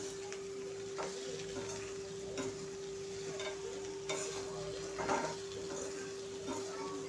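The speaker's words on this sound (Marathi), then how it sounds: "आता मिक्स करून घेऊया व्यवस्थित आणि मग हिला शिजवून घ्यायची आहे आपल्याला" Salted chopped okra (bhindi) is stirred in a pan for a masala bhaji, with a low continuous sizzle and repeated soft scrapes and knocks of the spoon roughly every second.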